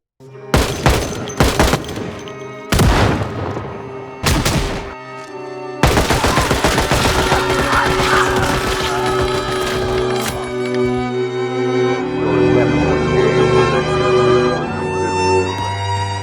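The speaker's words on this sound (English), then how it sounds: "The American army was authorized to open fire. Against everyone." Video game gunfire from a Project Zomboid trailer rings out in several sharp, loud bursts of rapid shots, then gives way to sustained rumbling and booming under music.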